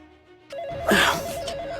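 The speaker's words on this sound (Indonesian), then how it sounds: "HP ibu bunyi." A mobile phone rings with a repeating electronic trill that starts abruptly and carries on steadily at close range, with no voices.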